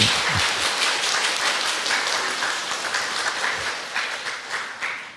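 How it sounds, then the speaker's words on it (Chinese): A church congregation claps to welcome visiting pastor and members from Fengtian Church, producing sustained, dense applause at a steady level that fades slightly at the end. "我们拍手欢迎他们"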